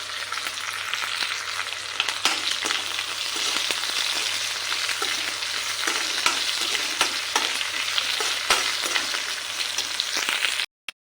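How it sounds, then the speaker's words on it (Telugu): Raw banana pieces and curry leaves frying in hot oil with onion, a loud, dense, continuous sizzle and crackle up close, with occasional sharp pops, ending abruptly. "కరివేపాకు కూడా వేసుకోవాలి రెండు ముక్కలు ఈ ఫ్రై అయిన తర్వాత చూద్దాం"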